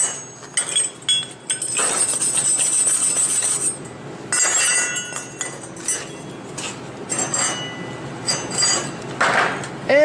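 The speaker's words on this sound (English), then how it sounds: "and now I'll wire brush it" Wire brush scrubbing over a stick weld bead on steel plate, a bright scratchy rasp in repeated strokes, close and loud, with brief pauses between bursts.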